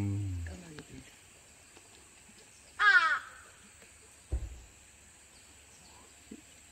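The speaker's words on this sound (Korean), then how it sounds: "어, 까마귀들 봐봐. 얘네들도 밥 먹으러 오는 거예요." Crows caw in a loud burst near the middle, then a shorter call follows, at a mountain temple feeding area high on Jirisan where wild boars and crows are fed; faint background otherwise.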